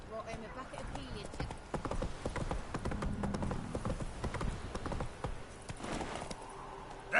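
Roach the horse trotting in Witcher 3, a steady run of hoof clip-clops mixed with game sounds, with someone talking over much of it.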